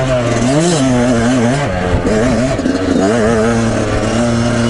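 A Yamaha YZ125X two-stroke dirt bike ridden in second gear on an off-road trail, its engine loud and close, buzzing and rising and falling in pitch with throttle changes and clutch slipping.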